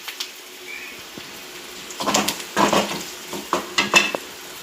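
A tempering of green chilies, garlic, curry leaves and turmeric fries in oil, soft sizzling broken by bursts of stirring and scraping against the pan, close and clear with no talk.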